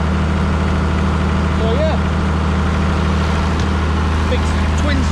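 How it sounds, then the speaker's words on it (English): Engine-driven twin-stage Campari irrigation pump with an exhaust primer running: a loud, constant low mechanical drone with a steady hum, while someone talks briefly over it. "big twin stage Campari pump with an exhaust valve on it"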